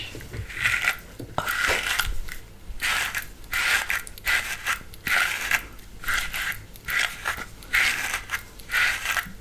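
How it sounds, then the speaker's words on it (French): A brush works Bleach London hair dye into hair in close, repeated rhythmic swishing strokes, each a soft scratchy burst with short pauses between; a brief word is spoken once. "On est reparti avec la brosse."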